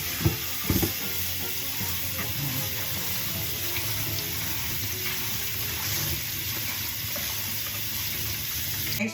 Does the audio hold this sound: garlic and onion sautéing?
yes